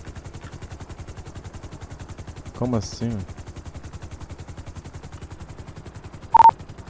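Rapid repeating gunfire from a GTA 5 roleplay police operation, a steady mechanical rattle running under the whole stretch, with someone speaking briefly partway through and a sharp loud burst near the end.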